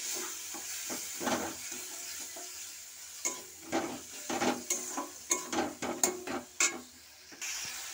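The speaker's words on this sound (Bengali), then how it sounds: "জিরে গুঁড়ো দিয়ে দিলাম, দিয়ে এটাকে আমি ভালো করে কষাতে থাকবো" Ground spices of turmeric, chili and cumin powder sautéing in a pan, with soft sizzling and repeated stirring scrapes and taps of a utensil that grow busier toward the end, close by.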